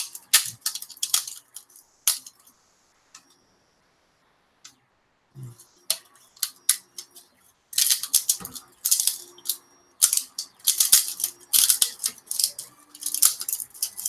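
Plastic film being peeled by hand off a scale model kit part, a run of sharp crinkly crackles and clicks in irregular bursts separated by near-silent pauses, close and fairly loud.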